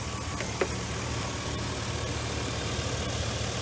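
A car engine idles steadily with a misfire, a low even hum broken by a faint uneven stumble, heard close with no talking.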